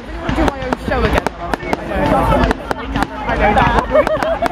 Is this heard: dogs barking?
no